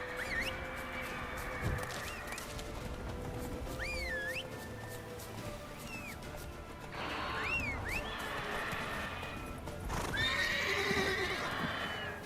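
Roach, Geralt's horse in The Witcher 3, gives several shrill neighs and whinnies spread over a few seconds, over a continuous bed of hoof clip-clop and outdoor ambience.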